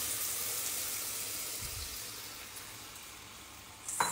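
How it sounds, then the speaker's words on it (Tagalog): Water mixed with Knorr cubes is poured into marinated beef, heard as a soft, steady pouring hiss that slowly fades, ending with a brief clatter. "So, dagdagan natin ng tubig na may Knorr cubes."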